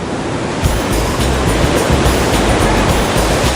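High tide surf on the shore, a steady loud wash of waves with a heavier surge partway through and wind rushing over the microphone, no talking.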